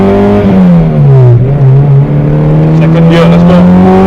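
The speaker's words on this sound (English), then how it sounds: "you can hear the VTEC" Loud, close revving of a K24-swapped Honda Civic EK sedan engine climbs in pitch, dips, then rises again with a harder, raspier edge as VTEC engages and it pulls higher.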